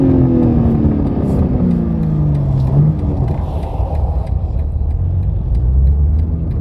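BMW G80 M3 fitted with an AWE Switchpath exhaust and high-flow catted downpipes, heard close and loud as a deep engine drone that rises then falls through downshifts, with a steady low rumble throughout.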